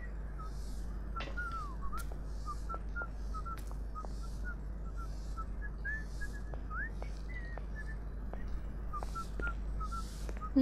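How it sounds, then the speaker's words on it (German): A character in the Syberia adventure game whistles a repeated series of short, bright chirping notes at a steady rhythm over a low constant hum, loud and close, with no talk over it. "Ja, der pfeift immer noch."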